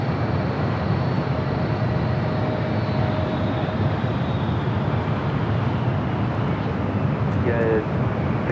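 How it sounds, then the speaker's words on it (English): A Korean Air Boeing 777-300ER takes off from LAX bound for Seoul, producing a steady, loud jet roar with a thin rising engine whine, and radio chatter over it. "Korean Air Flight 18 taking off to Seoul on the"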